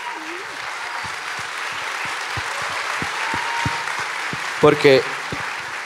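A live audience applauds steadily throughout, a dense wash of clapping under a low-level conversation in Spanish, with a brief louder vocal burst near the end.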